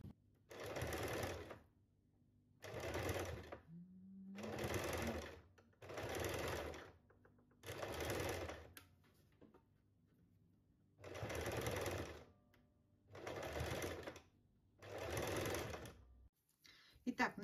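Sewing machine stitching the lining of a handmade bag, running in eight steady bursts of about a second each with short pauses between them, close and clear with no talking.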